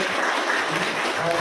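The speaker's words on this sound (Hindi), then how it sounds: "So I would want please आप इनका तालियों से इनका स्वागत करें।" Steady, loud applause from a seminar audience welcoming a guest, filling the whole brief moment without a break.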